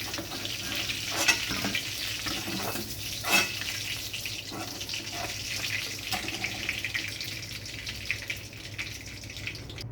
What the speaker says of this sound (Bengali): চিজ বল রেডি করে নিয়ে তেলের মধ্যে দিয়ে দিলাম। এবার এগুলো ভেজে নেব